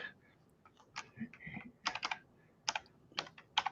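Someone types on a computer keyboard nearby in uneven bursts of sharp clicks and clacks, with short pauses between runs and no talk over it.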